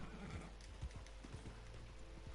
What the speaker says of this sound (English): What the hell's wrong with my horse? Is he dying?